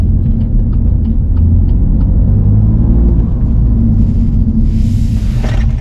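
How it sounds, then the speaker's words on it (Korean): A BMW M2 Competition in Sport Plus mode accelerating hard, its exhaust a loud, steady low roar throughout with a few crackling pops near the end, heard from inside the car with no talk. "배기 소리도 굉장히 이 차 사이즈에 비해서 굉장히 크게 잘 들리고"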